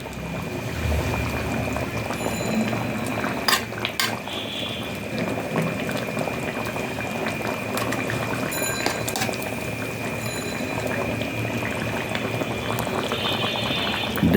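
Fish going into a pot of boiling curry: a steady, close bubbling and simmer runs throughout, with a few brief clinks and splashy bursts as pieces are dropped in.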